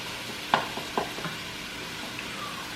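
Garlic and aromatics sizzle softly in a pan for chili, a quiet steady frying hiss broken by a few scraping stirs near the start, with no voices.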